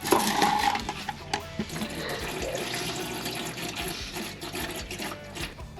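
Coolant draining from the bottom of an NB Miata MX5 radiator, a continuous close trickle and splash of liquid with faint clatter, no voices.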